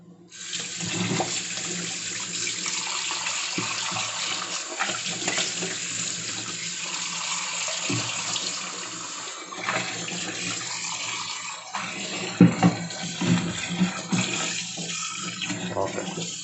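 Tap water runs steadily into a kitchen sink while vegetables are washed by hand, a continuous splashing gush with occasional knocks and clatters, close and moderately loud.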